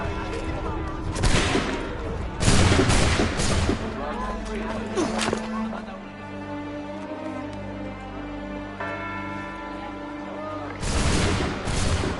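A volley of musket gunfire in the video game Assassin's Creed 3: a loud burst of shots near the start, then booming reports with echoing tails, and another heavy burst near the end, with a voice briefly under the noise.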